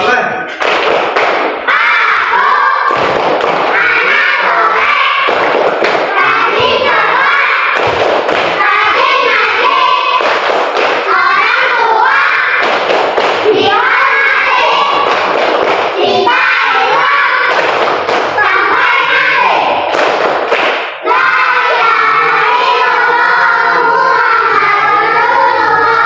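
A group performs the Tepuk Anak Soleh clap chant: loud, rhythmic handclaps in repeated patterns alongside chanting voices, sustained throughout, with a person speaking near the end.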